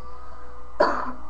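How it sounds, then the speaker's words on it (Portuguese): A single sharp cough bursts out near the microphone in a quiet room, loud and short with a brief rough tail, alone with no talk around it. "Tosse, véi!"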